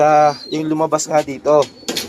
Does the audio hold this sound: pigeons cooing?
yes